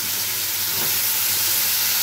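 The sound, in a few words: stirring food frying in a pan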